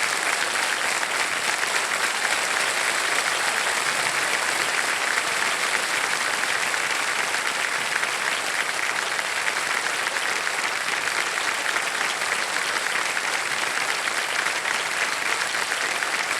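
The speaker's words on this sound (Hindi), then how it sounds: "तालियां बजते रहे नाना जी के लिए।" A studio audience on an Indian quiz show claps steadily and loudly, dense uniform applause sustained throughout with no break.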